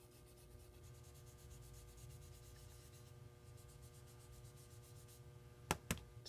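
Soft, steady rubbing and patting of an ink pad or sponge on a stamp, a continuous low scuffing texture heard close up with a couple of sharp taps near the end.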